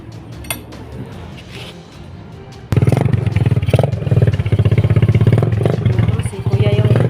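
A motorcycle engine starts abruptly and revs loudly nearby, its sputtering roar rising and falling, with quieter rustling and faint voices before it.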